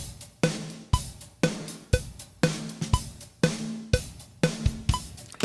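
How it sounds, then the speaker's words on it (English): A full drum kit plays a steady groove, with punchy kick and snare hits landing about every half second under ringing cymbals. "we have a multi-track drum recording that's residing inside of a folder"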